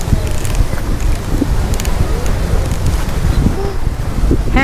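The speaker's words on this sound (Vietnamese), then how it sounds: "Gió mát quá trời luôn á." Steady wind blows across a beach at Hon Thom, Phu Quoc, lined with tall coconut palms under an overcast sky, a continuous broad rush with faint rustling throughout and no talk.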